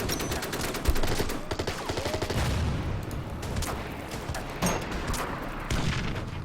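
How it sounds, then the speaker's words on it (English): Wartime battle from the Order of Battle strategy game, with Stuka dive bombers striking infantry and artillery in mountains: a steady, dense rattle of gunfire and bursts, with a few sharper booms standing out, continuous throughout. "The remaining Stuka will attack these infantry guys in the mountains, as well as the artillery."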